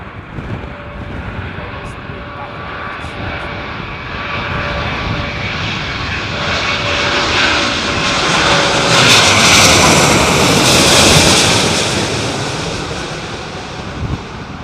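Aircraft engines roar across the Heathrow Airport airfield during Storm Ciarán, a loud continuous rumble that swells as a plane passes and fades, mixed with wind buffeting the microphone.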